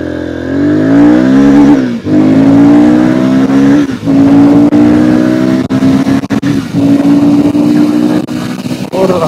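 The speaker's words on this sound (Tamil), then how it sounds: "இங்கே ஒரு 0 to 100 ட்ரை பண்ணுவோம்." A Royal Enfield Guerrilla 450 motorcycle accelerates hard from 0 to 100 on a highway, its engine roaring loud and close with rising revs through several gear shifts, each marked by a brief dip in the roar.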